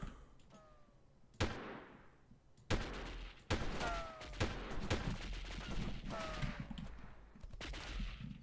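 Gunfire in the 1998 video game Delta Force, in bursts: sharp shots and short volleys crack out over a steady hum, growing denser and more rapid toward the end.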